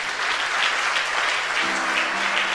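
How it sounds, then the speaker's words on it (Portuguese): A church congregation applauds steadily and loudly during a Portuguese-language worship service, a dense continuous wash of clapping that fills the whole stretch with no voices. "Você pode aplaudir ao Senhor?"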